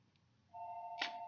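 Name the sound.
phone ringing during broadcast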